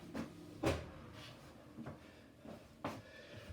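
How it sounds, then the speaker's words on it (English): Home oven door being opened for baking sourdough bread in a Dutch oven, a few soft clunks and knocks spaced over a few seconds, fairly quiet with no talk. "I'm just going to open the oven door and put it in."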